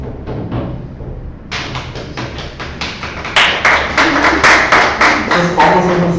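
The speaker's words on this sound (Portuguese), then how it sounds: "As palmas são constrangedoras" Scattered hand claps from a small audience after a talk on recognition and normativity in the public sphere, starting sparse and swelling into a brief, denser burst of claps near the end.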